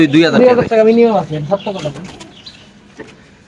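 Pigeons coo nearby in a pigeon-selling setting. Their cooing sounds close and loud at first and fades later, and a person can be heard talking over it.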